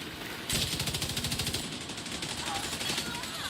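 Rapid automatic gunfire from the video game Division 2 rings out after a short lead-in, a dense, even string of loud cracking shots that runs on for about three seconds.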